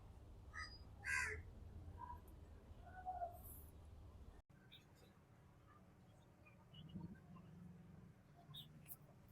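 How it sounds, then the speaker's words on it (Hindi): Crows caw outdoors in the morning, a few faint, distant calls early on and scattered weaker ones later, over quiet background noise. "कौवे की काय काय की आवाज़ ज़्यादा आती"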